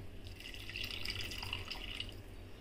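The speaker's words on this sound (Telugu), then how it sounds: "కొంచెం వాటర్ పోసుకోవాలి" Half a cup of water is poured into a simmering tomato cashew curry with kasuri methi, giving a steady, close splashing trickle that runs without a break under low kitchen hum.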